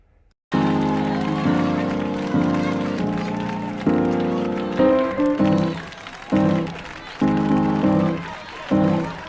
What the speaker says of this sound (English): I then started to add crowd noise to, give the illusion of of that stand-up space